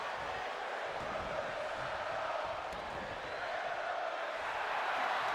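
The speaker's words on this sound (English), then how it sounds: "it's very British sounding crowd here tonight" Crowd in a WWE 2K25 wrestling arena match: a faint, continuous wash of distant crowd noise, steady throughout, with no clear rhythmic chant standing out.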